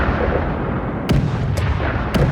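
Artillery shelling in the war game Cauldrons of War: Barbarossa, heard as three short, sharp booming reports over a dense rumbling backdrop, fairly loud and without voices.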